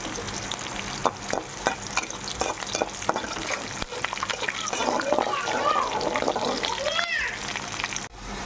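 Tempering of chilies, onions, mustard seeds and urad dal frying in hot oil, a continuous crackling sizzle with stirring scrapes and spattering bursts, while a person talks over it.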